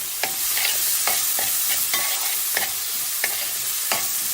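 Sea bass curry with turmeric powder being stirred in a pan, a rhythmic series of about eight scraping spoon strokes over a constant bright sizzle, close and clear, with no speech.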